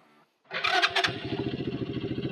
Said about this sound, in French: Déjà il démarre nickel